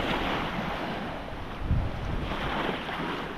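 Waves lap and wind blows steadily at a white sandy soundside beach on the Outer Banks, a broad continuous wash with a slightly louder surge midway, with no voices.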